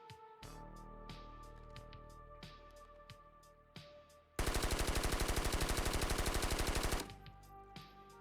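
G36 rifle fire in the video game Squad, a loud sustained burst of rapid automatic shots lasting a few seconds, preceded and followed by scattered single cracks and faint mechanical clicks.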